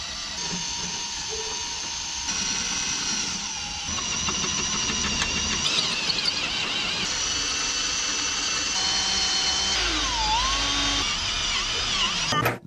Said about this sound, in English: This is a reverse drill bit, so this is for extracting